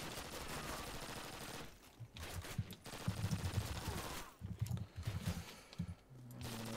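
Light machine gun fire in Call of Duty, played from the Axis side in woods, comes as bursts of rapid shots, some nearby and loud, with breaks of quieter ambience between them.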